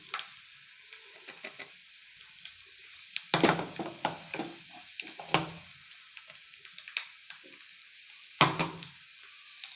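Ground paste for gojju avalakki frying in a pan, with a steady soft sizzle and repeated scraping stirring strokes, no talking.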